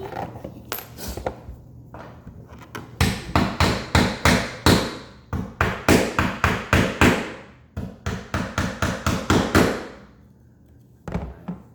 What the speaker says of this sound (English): Let me hammer this first, okay?